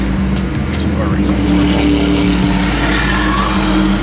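Cars pull out and accelerate away around the Daytona racing experience track, a dense continuous engine roar that is loud and close throughout, with talk over it.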